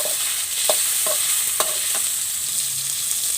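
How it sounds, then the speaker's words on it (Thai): Minced pork marinated in light soy sauce sizzles in a pan with garlic while a spatula scrapes and taps a few times, close and steady with no talking. "ผัดให้หมูสุก"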